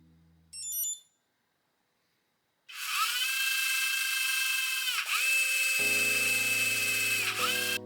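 A hobby robot's electric motor spins up on a 10.5 volt battery, a steady high whine with a bright tonal hum that runs continuously for several seconds, briefly dips, then carries on with a lower electronic tone layered beneath it.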